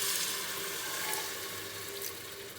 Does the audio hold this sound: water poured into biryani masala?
yes